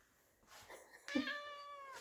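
A house cat meows indoors, a faint rustle followed by one clear, drawn-out tonal meow that rises and trails off, close and alone with no talking.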